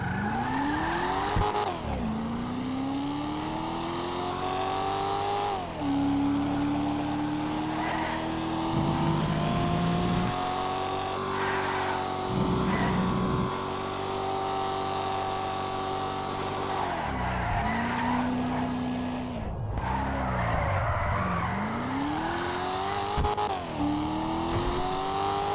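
A video game car on a test drive revs loudly with rising and falling engine tones through gear changes, tires squealing in spots, steady and close throughout.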